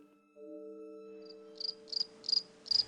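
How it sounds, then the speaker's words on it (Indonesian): A few high, bright cricket chirps come in short bursts, growing a little louder, over a quiet steady low tone. "jalan setapak kosong yang sunyi, kecuali suara jangkrik saling bersautan"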